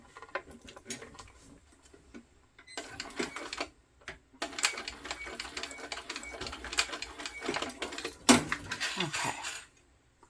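A home sewing machine stitching a tote bag, running in several bursts of rapid mechanical chatter separated by pauses, close and fairly loud, with a short sharp clack near the end.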